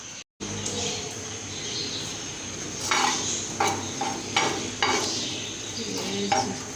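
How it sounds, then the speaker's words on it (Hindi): Fennel and whole coriander seeds roasting in a pan, a steady sizzle with repeated scraping and stirring strokes against the metal, close and continuous. "सौंफ और साबुत धनिया भूना जा रहा है।"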